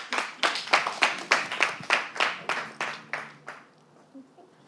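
A small audience applauding for a singer and an orchestra gives about a dozen evenly spaced, sharp clap bursts at moderate distance, slowing and fading out near the end.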